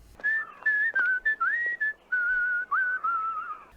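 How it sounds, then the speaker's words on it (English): A man whistles a melodic public-domain tune in the film The Stepfather, with clear sustained notes in short phrases separated by brief breaths, close and alone. "they just went with him whistling something from the public domain"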